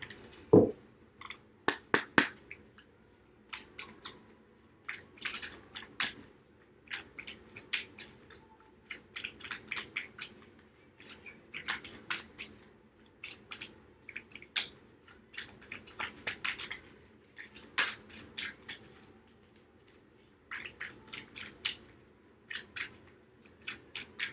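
Playing cards are shuffled again and again in quick, crisp riffling bursts with short pauses between them, soft and close, with no voices.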